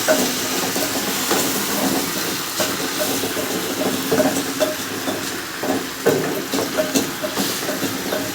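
Naan cooking with a little ghee on a non-stick tawa, a constant loud hiss and sizzle with occasional faint scrapes, close and continuous.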